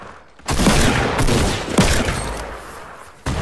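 Rapid bursts of gunfire in a shooting video game, loud and close, rattling steadily with a sharp restart near the end, no talk over it.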